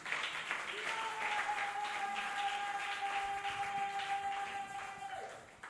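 A church congregation claps together in acclaim of Jesus, a dense, steady run of applause that fills the room and fades at the end, with a sustained organ or keyboard tone and voices blending underneath.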